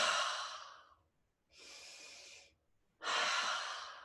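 Three deep, forceful breaths taken during a yoga goddess pull-down, heard up close and separated by short silences, each lasting about a second.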